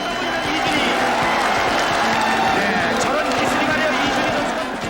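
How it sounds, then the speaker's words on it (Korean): A packed crowd in the stands at a ssireum wrestling match roars and cheers loudly and continuously, an excited wash of voices and clapping filling the arena. "2대1로 전세가 뒤집히자 관중석은 뜨거워졌다"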